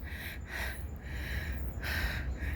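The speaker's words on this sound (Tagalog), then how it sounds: "Hingal-hingal to the max tayo dito, di ba?" Heavy, rhythmic breathing from someone hiking uphill in mountain terrain on a morning walk, with repeated breathy bursts about every second over steady outdoor background noise, no talking.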